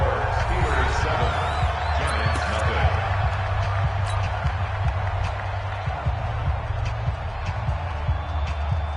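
Steady stadium crowd roar from a Madden football video game, a Giants drive just beginning, forming a dense continuous bed of crowd noise with scattered shouts throughout.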